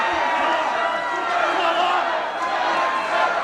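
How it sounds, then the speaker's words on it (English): Crowd at a wrestling show, a sustained roar of cheering and shouting from many spectators that stays loud and busy, with a voice talking over it. "But you can hear the crowd now. They're cheering on the big hero of this picture"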